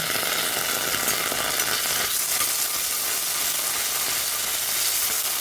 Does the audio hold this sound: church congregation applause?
no